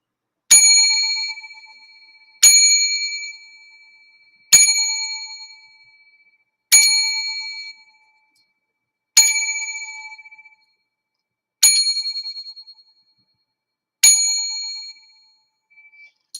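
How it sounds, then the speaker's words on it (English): A bell struck seven times at steady intervals of about two seconds during a moment of silence honoring deceased fathers, each clear ringing tone decaying before the next, with nothing else heard. "7 bells."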